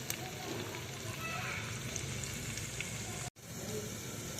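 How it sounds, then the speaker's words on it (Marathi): Cauliflower and potato frying with ginger-garlic paste in hot oil, a dense continuous sizzle that drops out briefly near the end before resuming. "त्यानंतर आलं लसूण पेस्ट टाकून फ्लॉवर बटाटा टाक घ्यायचा"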